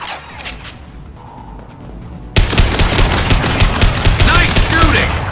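Gunfire in the video game Mass Effect 2 comes as a sudden burst of rapid automatic shots after a quieter stretch, loud and close, mixed with game sound effects.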